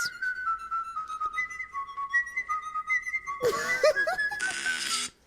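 Melodic whistling carries a tune over a music track, then a busier, louder passage with other sounds takes over near the end.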